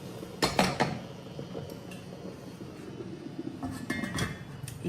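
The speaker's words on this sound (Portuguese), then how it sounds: "Aí eu vou tampar a panela e vou deixar meia hora em fogo médio." A metal lid set onto a cooking pot of pumpkin pieces on the stove, giving a few close clinks and scrapes of metal on metal, then quieter kitchen clatter.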